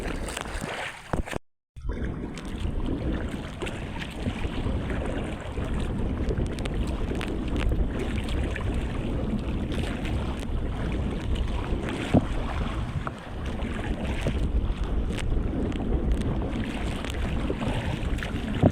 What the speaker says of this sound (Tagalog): Ayan o, malakas pati ang alon.